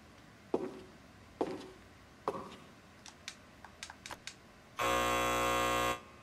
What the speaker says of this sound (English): I guess that big buzzer means that it's not working